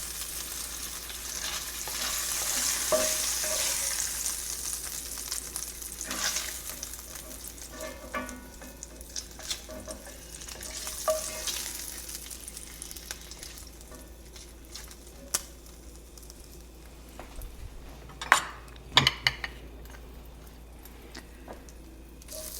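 Medium shrimp, about 31 to 40 count, cooking in a skillet for a Creole-style dish, with a steady sizzle and occasional stirring scrapes and clinks, loudest near the start and fading slightly toward the end.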